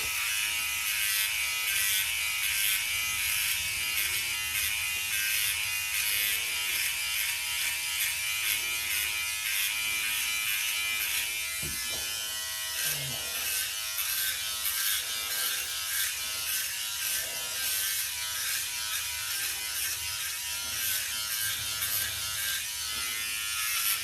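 A Philips OneBlade electric trimmer runs continuously while trimming a beard, giving a steady close buzzing drone throughout with faint shifting tones as it moves over the hair, and no speech.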